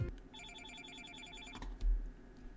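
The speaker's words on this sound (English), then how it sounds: "Fukuzawa heard something ring in his pocket." A work phone rings from a pocket in a dramatic reading, a bright trilling telephone bell bursting for about a second and a half, followed by a low thump and quiet rustle.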